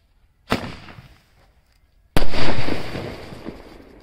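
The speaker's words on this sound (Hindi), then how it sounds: "तो भाई अब लगाते हैं इस स्काई शॉट के अंदर आग और देखते हैं कैसा चलेगा" A sky shot firework is lit for Diwali, giving a sharp launch pop, then a loud boom with a crackling, sizzling tail as it bursts overhead.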